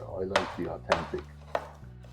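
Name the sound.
finely chopping meat with a knife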